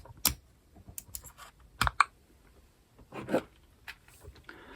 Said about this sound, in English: what I'm going to do is put the game card, so the standard game card, back into the console